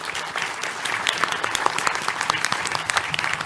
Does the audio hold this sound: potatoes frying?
no